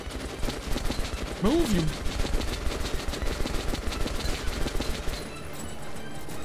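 Rapid automatic gunfire from a first-person shooter game, Metro: Last Light, rattles in dense bursts for about five seconds under a shouted voice, then stops abruptly, leaving quieter room noise.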